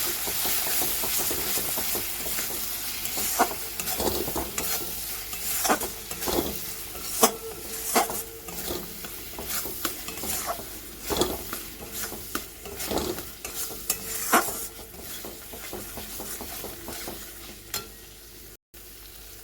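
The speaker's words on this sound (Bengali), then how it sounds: "হাফ টিস্পুন গরম মশলার গুঁড়ো দিয়ে ভালো করে কষাতে হবে।" Garam masala powder and paneer masala sautéing in a pan, a continuous close sizzle broken by regular scraping stirs of a spatula, with no voices over it.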